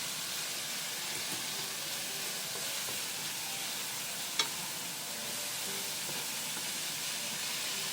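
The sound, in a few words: bean sprouts stir-frying in a frying pan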